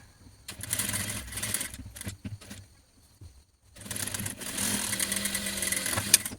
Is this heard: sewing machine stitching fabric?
yes